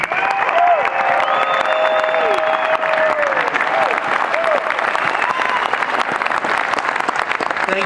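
Loud, steady audience applause fills a hall at a political event in Boise, a crowd clapping continuously with scattered cheers welcoming a presenter, no speaking voice over it.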